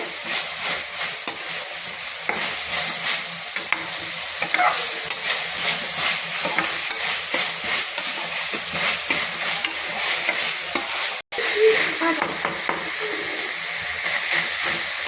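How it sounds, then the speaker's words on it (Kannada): Food is stir-fried in a pan with a steady, loud sizzle and continuous scraping and stirring that runs for the whole stretch, no voices. "ಹಸಿ ವಾಸನೆ ಹೋಗೋವರೆಗೂ ನೀಟಾಗಿ ಫ್ರೈ ಮಾಡಿ."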